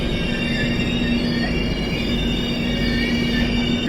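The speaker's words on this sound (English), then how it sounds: "there will be a train coming through the tunnel" A train rumbles steadily through a mountain tunnel on a Kerala to Mumbai railway route, a loud continuous roar with a high metallic wheel squeal sustained throughout.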